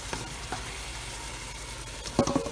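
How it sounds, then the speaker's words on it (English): Browned pork and its juices poured back into a sizzling stovetop pot of chile verde, giving a steady soft sizzle with a brief wet splash and scrape near the end, close and without talk. "And pour the pork back in to this mixture"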